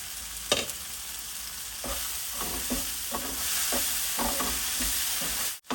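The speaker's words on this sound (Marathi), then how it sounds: "या ठिकाणी आपले टोमॅटो छान परतून झालेत" Tomatoes sautéing in a pan for a drumstick dish, a steady close sizzle with spatula scrapes and stirs knocking at irregular intervals, no voices.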